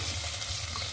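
Chicken pieces sautéing with reddened onions in a pan for Filipino tinola, a steady close sizzle and frying hiss with faint stirring, no voices.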